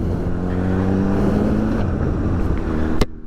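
A Buell motorcycle engine runs with a steady, droning rumble close by, holding a constant note under wind noise before cutting off abruptly near the end.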